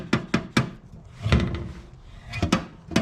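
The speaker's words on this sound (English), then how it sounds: "The gas door doesn't want to stay shut," A Volvo 240's gas filler door is pushed shut repeatedly, giving several sharp, close clicks and thunks in a quick rhythm with a softer rustle between them.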